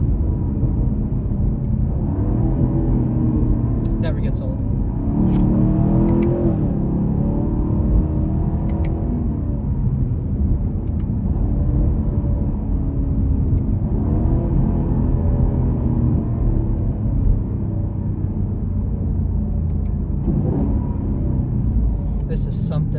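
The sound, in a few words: Camaro SS 1LE engine exhaust burbles and revving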